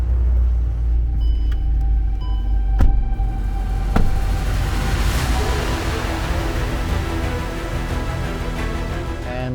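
A Ford Raptor bakkie and a Golf R race on a tarmac stretch, a loud steady engine roar that swells and rumbles with a couple of sharp knocks, no voices.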